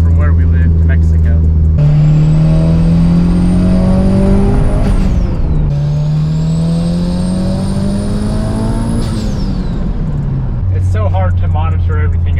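A turbocharged Mitsubishi Evo 8 accelerates hard through the gears, its engine rising in loud, close pulls with high turbo whine, then sharp drops at each shift. The engine settles back to a lower drone between pulls.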